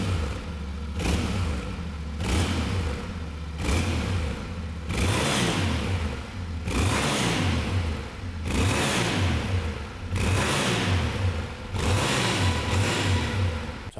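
A Yamaha Tenere 700 World Raid twin-cylinder motorcycle revs repeatedly in short bursts, each blip rising and dropping back toward a steady idle, close and loud with no talk.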